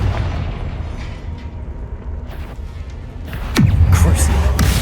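Confringo fire spell explosions in the Hogwarts Legacy video game rumble steadily under a voice, then a heavy booming blast erupts near the end.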